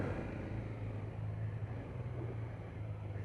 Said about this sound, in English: Bit of a single cylinder thump going on there.